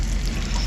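Ground meat arayes frying in a pan over moderate heat, giving a steady close sizzle with no breaks across the short moment, no voices.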